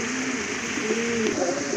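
Local deshi pigeons coo softly nearby, a couple of low rolling calls over a faint steady background hum, with no talking.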